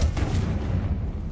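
A Confringo fire spell bursts in Hogwarts Legacy, one deep booming blast rolling out over a brief low rumble.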